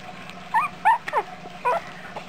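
Several short, high yips and barks from a dog wanting to come inside, four or five quick calls over a second or so, moderately loud in a quiet room.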